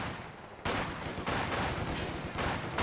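Dense, continuous battlefield gunfire from the WWII strategy game Company of Heroes 2, a steady loud roar of overlapping shots on the Road to Kharkov map.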